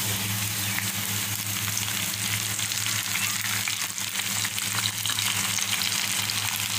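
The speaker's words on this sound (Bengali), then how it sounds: "এখন আমি ফ্রোজেন করা করলাগুলো এর ভিতরে দিয়ে দেবো।" Frozen bitter gourd pieces go into a pan of partly boiled potatoes, raising a loud, dense, continuous frying sizzle close up with a low steady hum beneath.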